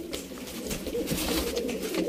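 Pigeons bought at a pigeon-keeping market in Sialkot coo steadily, several birds layered in low rolling calls close by, with constant flock rustle and no talk over them.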